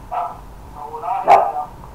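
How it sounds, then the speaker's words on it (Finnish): Dog barking indoors at night, a couple of short yapping barks with a whiny edge, close to the listener, one louder bark near the middle and a faint murmur of background sound. "Ei saa haukkua tähän aikaan."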